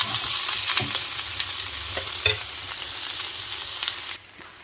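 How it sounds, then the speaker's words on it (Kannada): Onion, chilli, coriander and biryani spices fry in a pan for mutton biryani, a steady close sizzle with a few light stirring clicks, then an abrupt drop to quiet at the end. "ಈರುಳ್ಳಿ, ಮೆಣಸಿನ್ಕಾಯಿ, ಕೊತ್ತಂಬರಿ ಎಲ್ಲ ಮಸಾಲೆ ಐಟಮ್ಸ್ ಎಲ್ಲ ನಾನು ಫ್ರೈ ಮಾಡಿದ್ದೀನಿ"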